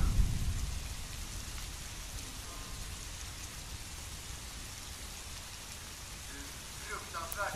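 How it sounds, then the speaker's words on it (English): Heavy rain driven sideways by wind in cold weather pours steadily outside a treehouse dome under construction, a constant close hiss of drops with a brief thump at the start. "it's raining from the side like this"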